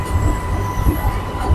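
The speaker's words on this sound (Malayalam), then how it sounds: "ട്രെയിൻ ഇവിടുന്ന് സ്റ്റാർട്ടായിട്ടുണ്ട്." Inside a Mumbai local train pulling out toward Mahalaxmi station, a loud low rumble and clatter of wheels on track fills the carriage, with a faint steady whine above it.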